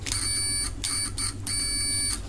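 A multimeter's continuity beep: three bursts of a high, steady electronic tone, harmonically rich, separated by short gaps over a low background hum; the longest beep lasts under a second.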